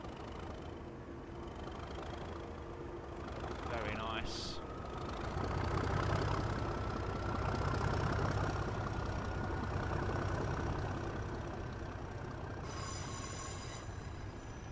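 Class 37 diesel locomotive in a simulated Carlisle to Settle run pulls away, a low engine drone and rolling rumble swelling through the middle, with a brief whistle-like tone early on.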